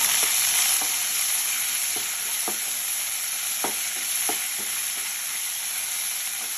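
Green chillies and mint sizzle steadily in a hot pan for a ridge gourd chutney, with a constant frying hiss broken by several short scrapes and clinks of a stirring spoon, close and with no talk.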